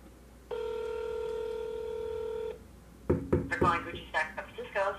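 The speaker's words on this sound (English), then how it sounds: "We're just going to press call." Touch-tone beeps of a phone dialing out to a Gucci store, one steady tone held for about two seconds, followed by a burst of short irregular beeps with some knocking, clear and close.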